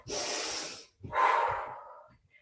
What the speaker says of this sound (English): Give me one more big breath